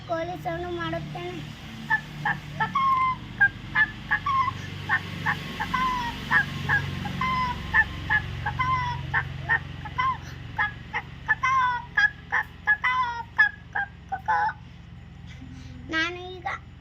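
A first-grade child vocally imitates a chicken, producing a long run of rapid clucking and squawking bursts, close and fairly loud, continuing steadily with a brief pause before a final cry.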